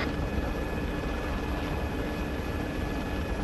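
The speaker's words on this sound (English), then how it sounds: "bring the package to the chopper" A steady, loud rotor and turbine drone from a helicopter in the Arma 3 video game fills the clip without pause, with no talk.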